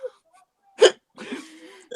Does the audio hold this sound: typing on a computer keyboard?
no